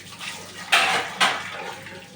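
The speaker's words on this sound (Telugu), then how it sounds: "అంట్లు కడిగేసుకుంటున్నాను" Dishes are washed by hand under a running tap in a home kitchen: two short splashing gushes of water over a steady faint hiss, with no talking.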